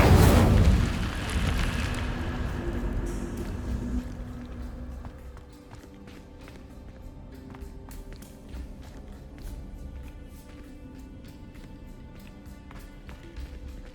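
An Incendio fire spell in Hogwarts Legacy bursts with a loud whooshing roar that fades over a few seconds, followed by light tapping footsteps and soft clicks, with no talk.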